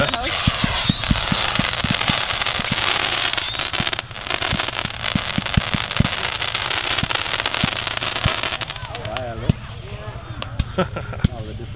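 Fireworks at a July 2011 Northfield display go off in rapid crackling bursts and sharp pops, with a steady rumble underneath, while people talk nearby throughout.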